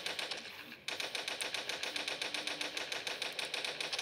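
Rapid automatic gunfire in the mobile game Toilet Monster: Hide N Seek, a steady rattling burst of shots after a brief pause, continuous and loud with no talk over it.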